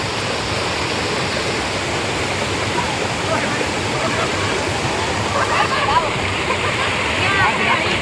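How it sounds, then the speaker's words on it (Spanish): A waterfall roars steadily and loudly, a dense continuous rush of falling water with no pauses. "Mira esta cascada"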